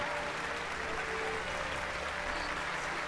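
Crowd in Final Fantasy XII applauding a speech, a sustained, even wash of many hands clapping, fairly loud and steady with no break.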